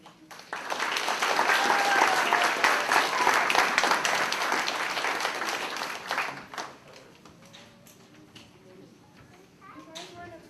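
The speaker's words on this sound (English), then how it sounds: "Can we give our kindergartners one more round of applause" School assembly audience of first and second graders applauding kindergartners, a dense burst of clapping that swells for several seconds and then tapers into scattered claps and murmuring voices.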